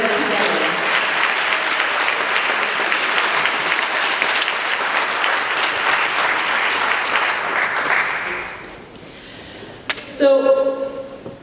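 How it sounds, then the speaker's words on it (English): An audience at a mayoral candidates forum applauds, a dense steady clapping that runs loud and full before fading out, with a brief voice rising at the end. "ask the staff and the planning committee to stand up and get a round of applause for helping to pull this event together"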